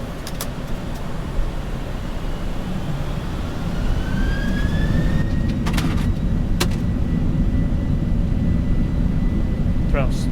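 Boeing 747 engines at takeoff thrust on a night departure from Frankfurt fill a cockpit with a steady, dense roar, faint whining tones rising over it and brief clicks from the flight deck.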